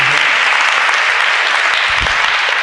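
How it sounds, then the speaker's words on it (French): Loud, continuous applause from an audience for a young man, a steady dense wash of clapping from start to finish with one low thump near the end. "il faut l'applaudir."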